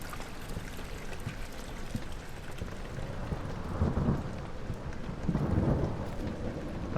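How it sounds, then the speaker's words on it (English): A thunderstorm with heavy rain sets a stormy night in the horror video game Amnesia: The Dark Descent, a steady hissing downpour with deep rumbling thunder that swells twice, loud and continuous with no talk. "Sounds like a stormy night outside."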